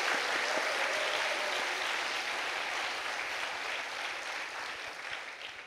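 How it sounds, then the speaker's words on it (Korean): A church congregation at a Sunday afternoon service claps for its elders, sustained even applause filling the room at moderate distance and slowly tapering toward the end. "박수 보내겠습니다"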